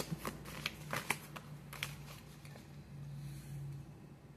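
Tarot oracle cards shuffled by hand during a personal reading, a run of quick papery riffles and taps in the first couple of seconds, then softer sliding over a low steady hum.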